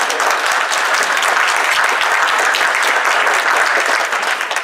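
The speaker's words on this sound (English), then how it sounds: "you can give him a round of applause" An audience at a celebrity roast fundraiser gives Senator Roger Wicker a round of applause, loud continuous clapping from a crowd that holds steady and tapers slightly at the end.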